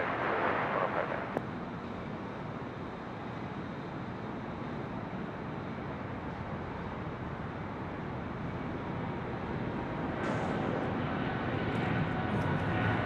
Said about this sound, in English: heavy jets departing the parallel